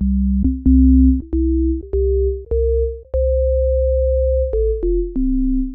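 A Korg opsix FM synthesizer plays additive, organ-like waveforms in a stepped sequence of clean sustained tones, each one a short interval above the last, then stepping back down, loud and steady with a low drone beneath.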